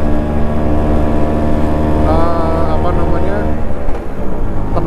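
A Vespa Super scooter engine, run on Adnoc Supreme two-stroke oil, drones steadily at high RPM with a loud, continuous harmonic hum, while someone talks over it partway through.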